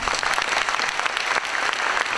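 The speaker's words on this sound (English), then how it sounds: "let's give our students a round of applause" An audience applauds fifth-grade students at a graduation, a loud, continuous burst of clapping from many hands with no voices breaking through.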